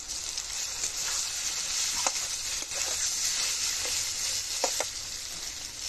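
Bitter gourd and ground lentil paste fry in a wok with a loud, continuous hiss of sizzling oil, broken by occasional scrapes and taps of a spatula stirring.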